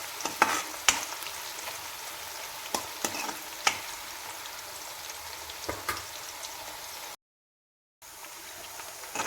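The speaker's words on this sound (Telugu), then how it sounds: "ఉల్లిపాయలు, పచ్చిమిరపకాయలు కొంచెం రెడ్ అయ్యేదాకా వేయించుకోవాలి ఫ్రెండ్స్" Chopped onions and green chillies fry in a pan with a steady soft sizzle, punctuated by scattered scraping stirs of a spoon and a brief dropout near the end.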